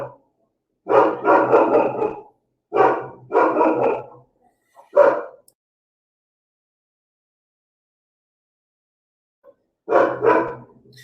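A pet dog barks indoors in several bursts of rapid woofs, loud and close, separated by quiet gaps, with a final burst after a long pause.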